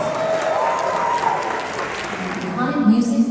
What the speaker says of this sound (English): Get ready for a big round of applause.